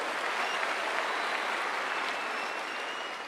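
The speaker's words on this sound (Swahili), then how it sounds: "Tumpigie rais makofi." Loud sustained applause fills a church gathering as a crowd claps for the president, a dense, even roar of many hands continuing steadily without pause.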